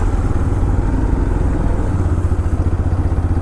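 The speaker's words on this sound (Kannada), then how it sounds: "ಇದು ರೆಂಟೆಡ್ ಬೈಕ್ ಅಂತೆ ಈ ಎಕ್ಸ್ಪಲ್ಸು." A rented Hero Xpulse motorcycle's engine drones loud and close while riding, a constant throbbing rumble with rattling texture and steady wind noise, no pauses.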